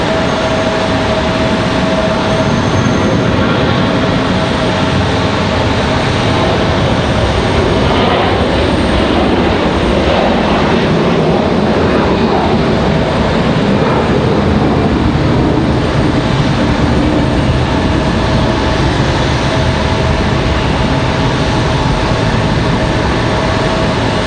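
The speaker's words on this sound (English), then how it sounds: "As the American A321 ready for departure." An American Airlines Airbus A321 jet departs at Raleigh-Durham, its engines a loud, steady roar that holds without letup throughout.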